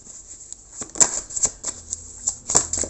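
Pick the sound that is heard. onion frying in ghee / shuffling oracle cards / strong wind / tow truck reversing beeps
shuffling oracle cards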